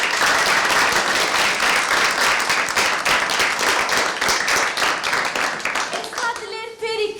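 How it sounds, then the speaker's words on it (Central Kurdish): A classroom bursts into applause for a student, a dense burst of many hands clapping close by that fades out over several seconds, with a few voices rising as it ends. "ئەی ئافرین چەپڵەیەکی بۆ لێدە"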